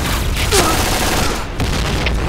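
Rapid gunfire and blasts from grenade explosions in a shooter video game, a dense loud barrage of overlapping shots and booms with no break.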